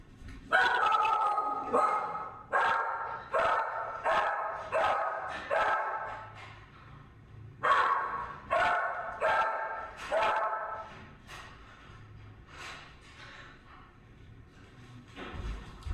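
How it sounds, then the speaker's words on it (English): A dog barks in quick bursts of several sharp barks with short pauses between them, fairly close and loud indoors, tapering off toward the end. "my dog was a bit, I don't know, she was barking"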